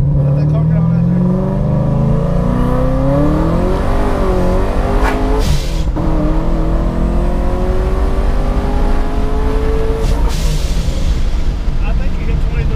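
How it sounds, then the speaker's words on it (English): A Torqstorm-supercharged car launches down a drag strip, its engine note climbing steadily through several seconds of hard acceleration before a brief shift and continued roar, loud and close. "Let that car get on out there."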